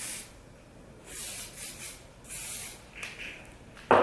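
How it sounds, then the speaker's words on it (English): Shine spray misted onto hair in a few soft, hissing bursts of aerosol, close and fairly quiet, with a brief louder rustle at the end. "going in with the shine spray"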